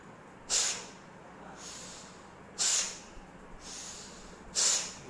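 Bhastrika pranayama breathing, three forceful, hissing breath bursts spaced about two seconds apart, close and sharp against a quiet background.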